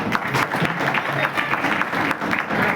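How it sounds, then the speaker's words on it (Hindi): An audience claps in welcome, a moderately close patter of hands over a couple of seconds with some uneven bursts. "तालियों से स्वागत करें।"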